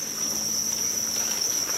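Crickets at a cricket-rearing farm in Nong Khaen village, Kut Chum district, Yasothon, Thailand, keep up a steady, dense high-pitched trill, unbroken and fairly close throughout.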